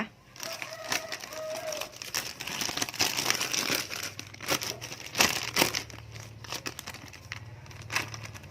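Plastic bag crinkling as it is placed over a plant cutting, close irregular rustles and sharp crackles in bursts over several seconds, with faint background sounds.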